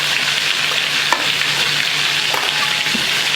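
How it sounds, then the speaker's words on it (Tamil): KFC-style fried chicken sizzles in hot oil as it is lifted out to drain, a steady bright crackling hiss with small pops throughout. "அப்படியே எடுத்து அலேக்கா இது மேலே வச்சு அப்படியே இந்த எண்ணெயை நம்ம வடிக்க போகிறோம்"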